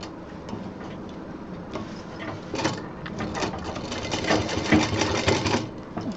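A sewing machine runs steadily while stitching a college bag with a zip, its rapid ticking needle rhythm loud and close, swelling slightly toward the end with no talk over it.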